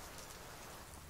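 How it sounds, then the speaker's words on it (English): Rain falls in the farming video game Deiland, a soft, steady wash of drops that stays quiet and even for the whole short stretch, with no talking over it. "Is that rain? Is the rain coming my way?"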